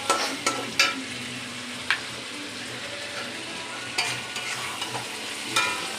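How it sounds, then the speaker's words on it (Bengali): Already-fried cauliflower florets are stirred and tossed in a hot pan, with a steady sizzle broken by sharp scraping clicks of the spatula at close range. "ফুলকপিগুলো দিয়ে ভালো করে কষাচ্ছি।"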